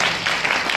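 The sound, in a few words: audience applause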